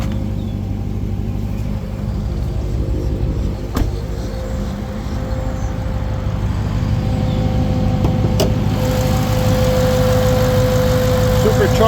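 A 2019 Dodge Charger Hellcat SRT with a rebuilt title idles on its supercharged Hemi V8, a close, loud, deep steady rumble with a faint whine, occasional clicks and a brief change in tone.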